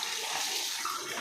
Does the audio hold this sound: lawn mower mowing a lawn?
no